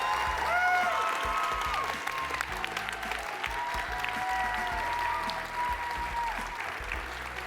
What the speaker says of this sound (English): Let's give another round of applause for everyone on stage